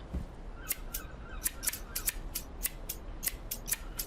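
Scissors snip repeatedly in the Schedule video game, a quick series of about a dozen crisp, close metallic cuts in an uneven rhythm.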